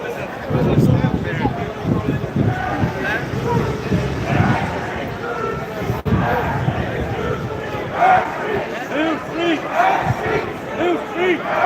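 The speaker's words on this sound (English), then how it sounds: "show you the crowd here before we go." Outdoor crowd at a gathering gives a dense, continuous babble of many voices. Occasional louder shouts and cheers rise from the mass of people nearby.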